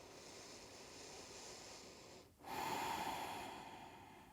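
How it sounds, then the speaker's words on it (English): Breath sounds during a yoga exercise, lying with feet on the floor and back arched: a steady airy exhale, a brief pause, then a louder, fuller breath with a faint whistling tone, close and alone. "and breathe and relax"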